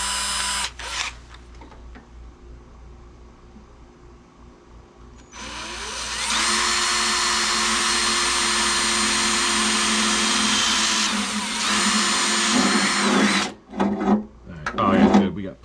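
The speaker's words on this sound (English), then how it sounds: "All right, we'll drill a little pilot hole here." A power drill bores a small pilot hole through the sheet-metal tailgate of a Jeep Wrangler, whining loudly and steadily for several seconds with a brief pause, after quieter handling noises and before rustling.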